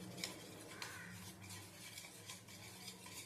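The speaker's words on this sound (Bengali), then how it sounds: "এবারে এই ব্যাটারটা গুলে নেব আমি দুধ দিয়ে।" Spoon stirring batter with milk in a bowl, a steady scraping swirl with soft clinks against the sides, close and continuous.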